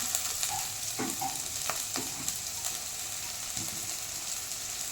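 Blood poriyal stirred and frying in a pan, a constant sizzle with scraping stirs and occasional clinks of the spoon against the pan, close and alone.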